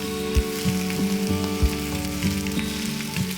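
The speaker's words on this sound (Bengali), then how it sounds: "কড়াইতে তেল দিয়ে দিলাম গরম তেলে চিংড়িগুলো দিয়ে দিলাম" Prawns, large freshwater golda chingri, frying in hot oil in a wok, giving a steady sizzle with a low hum and periodic soft thuds or stirs, close and fairly loud, with no talk.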